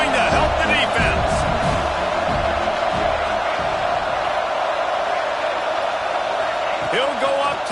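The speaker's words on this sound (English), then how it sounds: "this crowd is coming to help the defense" A stadium crowd roars at a football game on fourth down, a loud, steady wall of cheering and yelling that holds throughout, with a commentator talking over it.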